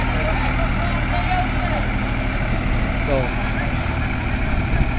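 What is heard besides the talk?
Mahindra 575 and Sonalika tractor engines idling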